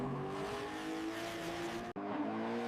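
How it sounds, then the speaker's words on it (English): A car accelerating down a straightaway, its engine holding a steady, loud, high-pitched drone with a brief dropout partway through before the roar resumes, close and continuous with no voices. "It accelerates down the straightaway, tracking straight and true without any vibration from the chassis."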